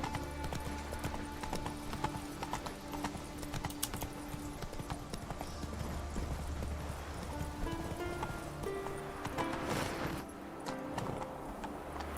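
Horse hooves clip-clop steadily on the ground in The Witcher 3, a quiet, even rhythm of hoofbeats with game ambience and some talk over it.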